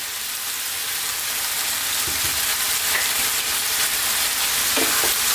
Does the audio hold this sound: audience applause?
no